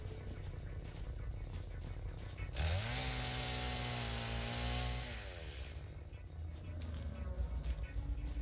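A chainsaw in the video game Satisfactory revs up sharply, holds a loud steady whine for about two seconds, then winds down, with quieter mechanical game ambience before and after.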